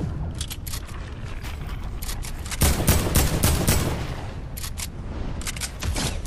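Rapid bursts of Fortnite Battle Royale gunfire crackle in quick succession, loud and sustained with a heavier volley in the middle, without talk over them.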